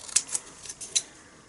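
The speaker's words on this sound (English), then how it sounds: "I'm just going to use my scissors to cut this out freehand" Long-bladed scissors snip freehand through orange cardstock in a few crisp, separate cuts, close and clear in an otherwise quiet room.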